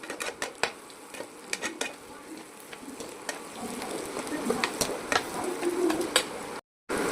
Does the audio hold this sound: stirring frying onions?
yes